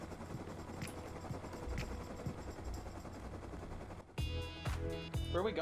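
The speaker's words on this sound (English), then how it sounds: "Nice helicopter, dude." A helicopter in the video game Rust makes a steady, loud rotor-and-engine roar. Partway through, sharper tonal bursts and game sounds cut in.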